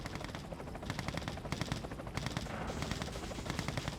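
Red Alert 2 battle with a helicopter's rapid rotor chop and bursts of machine-gun fire, dense and overlapping throughout a short, busy stretch.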